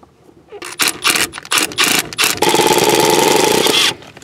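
A power tool drives a screw while a switched fuse block is wired in a vehicle. Several short bursts of whirring and clicking come first, then one steady, loud, sustained run of about a second and a half before it stops.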